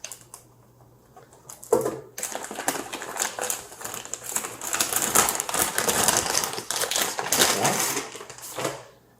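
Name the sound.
crinkly plastic packaging being handled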